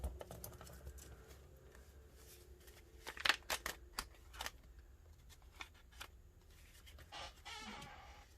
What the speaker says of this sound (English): I think the scissors will be able to take care of the rest of those.